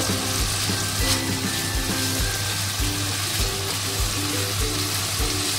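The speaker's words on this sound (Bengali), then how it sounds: "কষানো হয়ে গেছে, এই যে তেল বেরিয়ে গেছে। এবার জল দিয়ে দেবো।" Water goes into a pan of sautéed papaya curry (papaya dhoka) with green chillies, hissing steadily into a busy sizzle, with repeated soft low knocks like a utensil working the pan and no talking.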